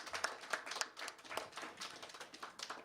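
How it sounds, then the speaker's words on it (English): Applause from an audience at a Thursday night live performance at Uptown Bill's, with faint, fairly sparse hand claps in an uneven patter that sounds distant and thin, with no voices over it. "Give them a round of applause."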